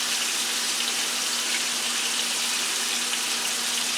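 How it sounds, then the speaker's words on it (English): Bacon grease poured over a steak in a hot pan gives a steady, even hiss and sizzle that runs loud and unbroken from start to finish, with no voices over it. "I'm gonna pour a little bit more bacon grease on here"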